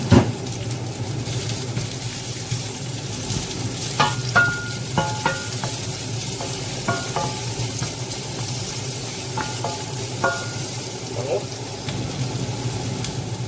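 Onion sizzling in a hot pan while stir-frying for chicken teriyaki, a steady close frying hiss with occasional scraping stirs and clinks throughout.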